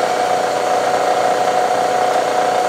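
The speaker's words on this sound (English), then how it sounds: "Now that we check the gear, we can turn the machine on to high range." A milling machine switched on and running in high range, giving a steady, loud mechanical hum with a constant even drone and no talk over it.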